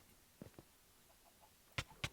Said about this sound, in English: Oh, chicken there.